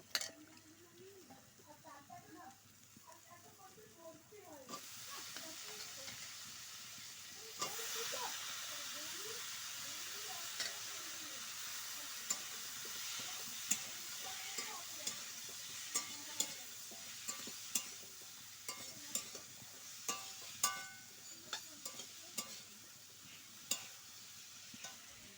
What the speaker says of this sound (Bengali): সেরকম নুন দিয়ে ভালো করে কষে নিয়ে আমি কষছি